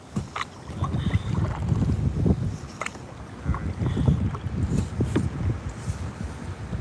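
Wind buffets a small bass fishing boat drifting on a lake, with gusty microphone rumble and soft water lapping against the hull, moderately loud and uneven throughout.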